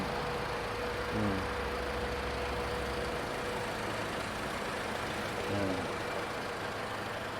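A 2005 Toyota Fortuner 2.7 V 4x4 automatic engine idles steadily, low, quietly and evenly throughout, with a faint voice briefly audible twice over it.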